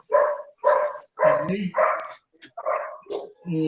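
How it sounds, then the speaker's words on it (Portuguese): A dog barks repeatedly at close range in a series of short, evenly spaced yelps, with a few quick whimpering notes among them and no talk. "Tem um cachorro"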